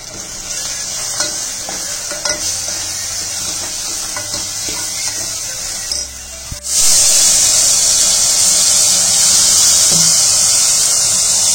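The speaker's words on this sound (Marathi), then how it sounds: "चांगलं फ्राय करून घेते मी" Eggs fry in a pan for egg biryani, giving a continuous sizzle under occasional scraping stirs that swells into a louder, brighter hiss partway through.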